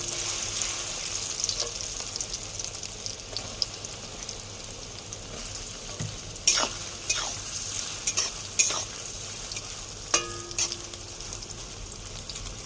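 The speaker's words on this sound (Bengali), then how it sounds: "এগুলো ভাজা ভাজা হবে।" Soya chunks fry in hot oil with a constant close sizzle and bubbling, marked by occasional sharper crackles and spoon-stirring scrapes, with no talk over it.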